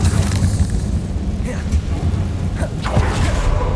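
A Confringo explosion spell in Hogwarts Legacy booms with a loud, rumbling low-end blast that rolls on for several seconds, with a few brief crackling bursts on top.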